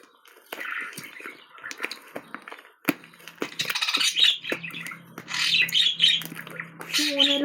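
A pet bird gives repeated loud squawks and chirps, close by, scattered over several seconds amid household clatter and drips, with a voice also present.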